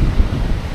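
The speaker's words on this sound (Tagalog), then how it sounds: "Ang lakas ng hangin, so hindi na naman tayo makakapagpalipad ng drone kasi sobrang lakas ng hangin." Strong coastal wind buffets the microphone with loud, low rumbling gusts, a short burst of blustery roar with no voices.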